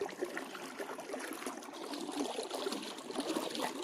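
Irrigation water flows steadily through a farm field channel, a soft continuous gushing and trickling hiss heard close and alone.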